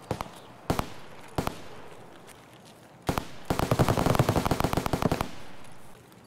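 Gunfire in the shooter game Escape From Tarkov: a few isolated sharp shots, then a rapid automatic burst of about twenty rounds, loud and close with echoing tails.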